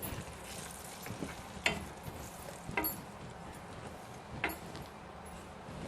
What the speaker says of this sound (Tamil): அந்த நெய் உருகுன உடனே இந்த கோதுமை மாவு போட்டுக்கணுங்க. நல்லா சிம்மில் வச்சுட்டு வறுத்துக்கிட்டு இருக்கலாம்.